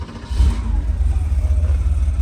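A 1986 Porsche 911 Cabriolet with 57K miles, its air-cooled engine running with a deep steady rumble and a light rev, close by and loud, with no talking over it.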